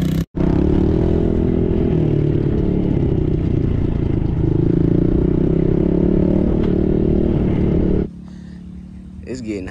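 A child's Yamaha PW-50 or TTR-110 dirt bike rides nearby with a continuous buzzing engine drone and clattering, then cuts off abruptly near the end; a person talks over it.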